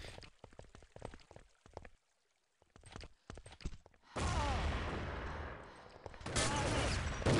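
In a competitive shooter match, clipped bursts of rapid gunfire come first, then a heavy sustained roar of shooting fills the second half loudly.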